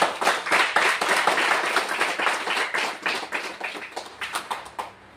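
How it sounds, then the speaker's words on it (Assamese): Hands clapping in a church worship service, a dense run of many overlapping claps that thins toward the end into a steadier rhythmic pattern of individual claps. "আমি তালি বজাই চব ধন্যবাদ"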